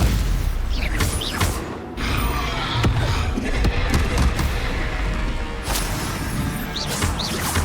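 Stupefy spell impacts in Hogwarts Legacy combat: loud, dense, layered crashes, whooshes and booms that pile up continuously, with sharper hits near the start and end.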